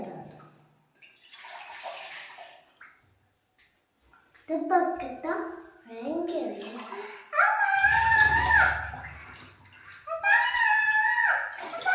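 Water trickles and splashes as it is poured into a glass of milk with Horlicks, a soft pour near the start, followed by children's chatter and squeals that then dominate.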